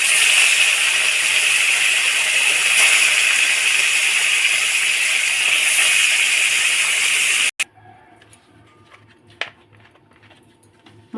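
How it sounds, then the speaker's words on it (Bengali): Bata fish frying in hot white oil in a wok, a loud, steady sizzling hiss that fills the first seven seconds, then cuts off abruptly to quiet kitchen sounds with a few soft clinks. "কড়াইতে তেল দিয়ে দেবো। সাদা তেল দিয়ে মাছটা ভাজবো।"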